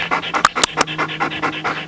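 Belgian Malinois male dog panting close by, a quick, even run of breathy huffs with a few sharper gasps mixed in, no voices.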